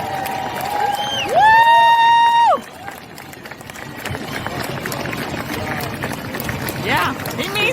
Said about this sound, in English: People were just clapping and cheering and talking in the background.